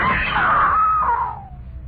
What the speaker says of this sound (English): I screamed.